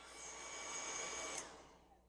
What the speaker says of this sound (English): I'm going to go and take my heat gun and or my blow dryer and just dry this quick